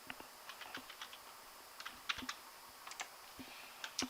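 Light typing on a computer keyboard while entering figures into an Excel spreadsheet cell, with scattered quiet key clicks in irregular short runs and no talk.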